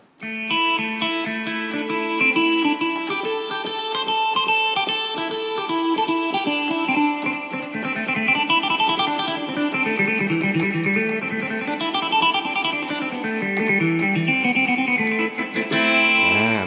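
A bright, twangy phin-like lute tone played on a Yamaha PSR-S650 keyboard, a continuous flowing melody with a steady drone underneath, loud and close without speech.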